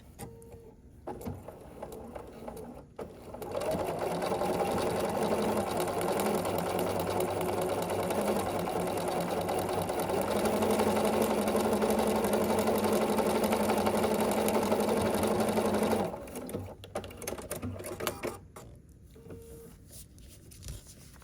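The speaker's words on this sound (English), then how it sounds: "I'm gonna sew on the line between like 1 and 3 and 5" A sewing machine stitches along the lines of a foundation paper pieced quilt block. Its motor runs as one continuous, even whir for about twelve seconds, with quieter handling sounds before and after.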